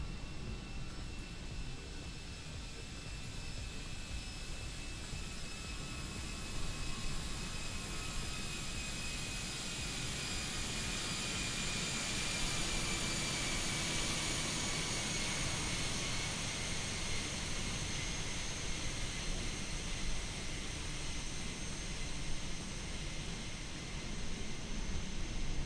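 An airliner's jet engines roar steadily on its landing approach in the VATSIM flight simulator game, a broad continuous rushing drone with a high whine, moderately loud and unbroken, with no talk.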